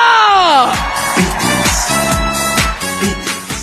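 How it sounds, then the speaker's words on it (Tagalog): A large crowd at a political gathering in Batangas erupts in loud cheering and shouting, with whoops and voices swelling after a voice trails off, the roar staying steady and close throughout. "Malakas na palakpakan sigawan po!"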